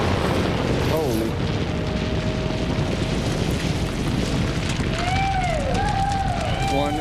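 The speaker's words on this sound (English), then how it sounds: "One very large explosion just went off." A very large blasting charge goes off against a rock face at a construction site, heard from far off as a sustained, loud rumbling roar that fills the whole stretch, with faint voices drifting in near the end.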